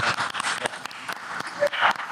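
Applause breaks out during an interview with Anderson .Paak, a dense patter of clapping mixed with laughter and talk at moderate loudness.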